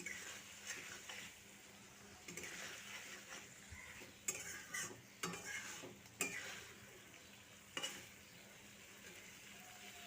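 Fried potato and eggplant being sautéed for a Bengali parshe fish curry sizzle softly, with several sharp clinks and scrapes of a spatula against the pan.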